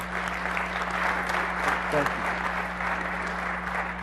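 Audience applause at the MMS 2013 conference session on private cloud strategy: steady, dense clapping from a large crowd filling the room, with a brief spoken voice over it.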